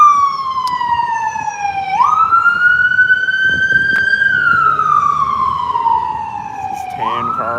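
A loud, close ambulance siren wailing and sweeping slowly up and down in pitch, steady and continuous, briefly shifting to a faster yelp at the end.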